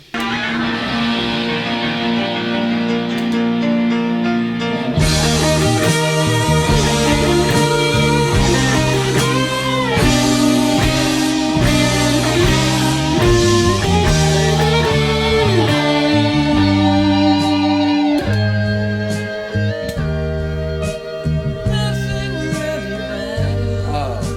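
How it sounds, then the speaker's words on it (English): A dense rock mix with a piano building steadily beneath full band, rising in intensity before the ending lead guitar solo takes over. "then we have the piano build that leads up to the ending guitar solo"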